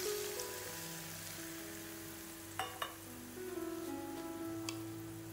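Hot oil poured over pan-grilled eggplant on a gas stove crackles with a soft, fairly faint sizzle, broken by a few sharp clinks and a brief louder spatter midway.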